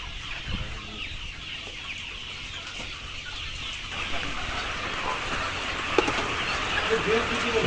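Layer hens in a poultry-selling setting cluck in short, scattered calls over a steady, noisy background, with occasional sharper squawks.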